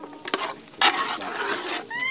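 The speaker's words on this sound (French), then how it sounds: "mélanger la sauce et le sorgho dans une même marmite, saler et remuez-les" Sorghum and sauce being stirred together in a pot, giving soft scraping and clinking of the spoon against the pot with a faint sizzle underneath, near and fairly quiet, no talking.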